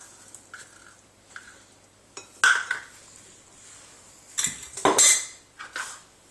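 A utensil clinks and scrapes against a bowl while sourdough starter is mixed, with a few sharp taps and stirring strokes separated by quiet pauses.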